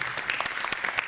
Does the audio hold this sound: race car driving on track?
no